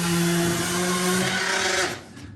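A small jitterbug sander polishing logs on a Montana homestead, a steady loud whirring hum close by that runs for about two seconds and then cuts off and winds down.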